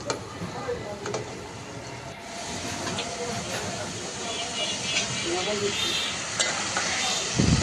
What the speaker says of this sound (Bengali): এখন এই তো পাশের চুলাতে আলু আর পেঁয়াজ দিয়ে ভেজে নিচ্ছে।